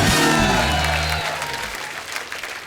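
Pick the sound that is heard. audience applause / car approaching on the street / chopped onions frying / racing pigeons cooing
audience applause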